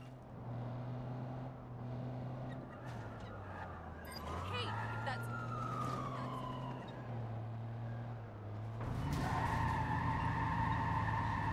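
Police car siren in Watch Dogs 2, a wailing tone that sweeps and shifts pitch against city traffic with brief horn blasts and tire skids, then jumps to a louder, closer siren near the end.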